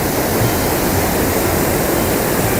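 Bhatinda waterfall in Dhanbad, Jharkhand, pours down rock steps in a loud, dense, unbroken roar of rushing water, heard close with no voices.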